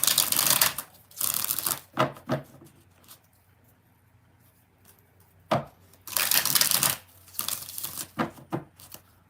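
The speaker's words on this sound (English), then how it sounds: "One more shuffle." Tarot cards are shuffled in several papery riffling bursts, close and fairly loud, with quiet pauses between them.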